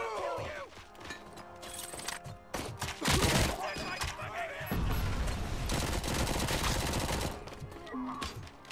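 Gunfire in the video game Robocop Rogue City: bursts of loud, rapid automatic shots and heavy impacts mixed with crashing effects and game sounds, close and dense, with brief pauses between volleys.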